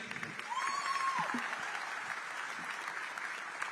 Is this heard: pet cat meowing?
no